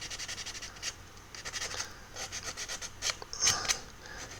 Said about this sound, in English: So I'm just going to get a bit of a rub with some sandpaper.